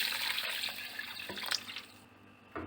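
Water pours in a splashing stream into a container, a two-glass measure for a falsa sharbat with falsa berries, black salt and sugar, then tapers off near the end.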